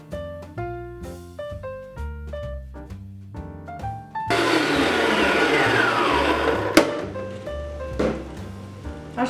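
An electric mixer whirs steadily as it beats cream until firm for an Italian meringue mousse, a loud continuous drone that starts partway through after a stretch of background music, with the music continuing underneath.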